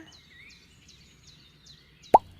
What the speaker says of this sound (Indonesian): Kalau sudah tercampur rata, masukkan 1 kuning telur.